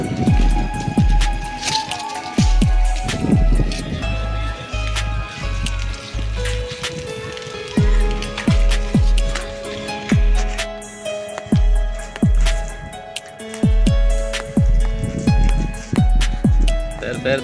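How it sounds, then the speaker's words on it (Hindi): Heavy morning rain in Punjab pattering and dripping onto a flat rooftop where water has pooled, steady and close with irregular splashing drips. "माशाल्लाह से काफ़ी अच्छी बारिश हो रही है"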